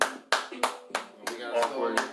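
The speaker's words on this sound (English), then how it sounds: "Let's give him some claps." A few people at a podcast taping clap in an uneven, sparse rhythm of sharp separate claps, close and fairly loud.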